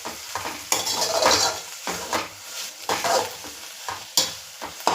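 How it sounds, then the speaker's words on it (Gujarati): Cooked bottle gourd is stirred slowly in a pan with ghee. A utensil scrapes and clatters against the pan in a repeating rhythm over a soft, close sizzle. "એકદમ ધીમે ધીમે હલાવ્યા જ કરવાની છે આપણે દૂધીને."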